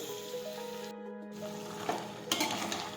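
Okra and tomato curry sautés in a pan, a soft continuous sizzle with a few scraping stirs and a brief clatter, close and fairly quiet, no talking.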